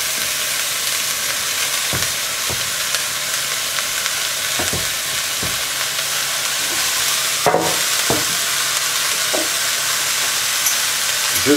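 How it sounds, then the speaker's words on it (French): Leeks, onion and potato sautéing in hot oil, a continuous close sizzle with scattered clicks and scrapes of utensils against the pan, no voices. "On va mettre à revenir les poireaux, l'oignon et la pomme de terre."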